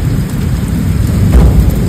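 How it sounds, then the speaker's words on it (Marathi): Heavy rain pours during a thunderstorm, a loud, close, unbroken roar of water with a deep rumbling low end, no voices. "यो कडक पाऊस आहे नुसता"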